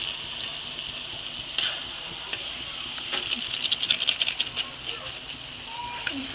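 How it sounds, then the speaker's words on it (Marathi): Food frying in a home kitchen, a steady bright sizzle with crackles and stirring scrapes growing busier partway through, close to the pan with a voice speaking over it. "आता फ्राय करून घेऊया।"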